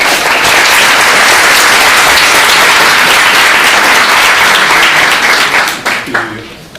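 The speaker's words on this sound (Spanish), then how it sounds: "Un aplauso para el profesor." Loud, dense audience applause fills a forum on social violence as a professor is introduced, holding steady for several seconds before trailing off into a few scattered claps.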